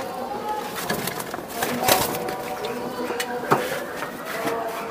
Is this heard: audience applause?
no